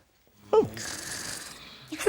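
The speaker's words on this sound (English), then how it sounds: "Who's that snoring?" Cartoon shapes snoring while asleep, a soft breathy inhale-and-exhale snore starting with a quick rising squeak and ending with a louder snort, played alone and close.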